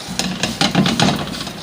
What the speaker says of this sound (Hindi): चमचा चलाते रहे हम।